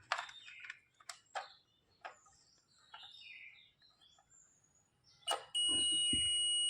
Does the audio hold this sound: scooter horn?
no